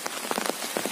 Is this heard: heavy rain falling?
yes